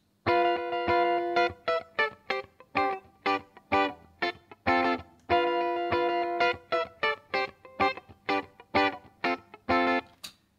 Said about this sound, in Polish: Mikrofon dynamiczny brzmi tak.